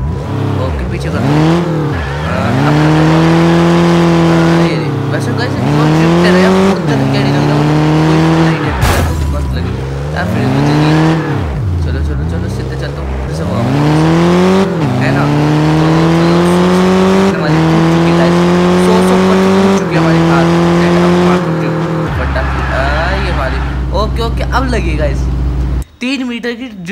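A car drifts hard, its engine revving up and down repeatedly with loud tire squeal, close and continuous for the whole stretch. Near the end the engine note drops to a low idle rumble. Someone talks over it throughout.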